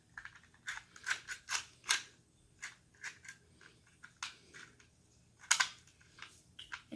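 A part of a Walther PPQ combat kit is pulled back and latches, giving a quick run of sharp, close mechanical clicks and snaps at an uneven rhythm, with no talk.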